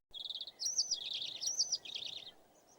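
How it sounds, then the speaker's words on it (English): Cheerful bird chirping from a story video game: a bright, warbling trill that rises and falls for about two seconds over a soft background hum. "Suddenly, he heard some cheerful chirping."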